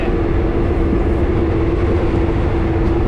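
Inside a moving passenger train, a steady loud rumble of wheels on track fills the carriage with a constant low hum and a faint tonal whine, continuous and without speech.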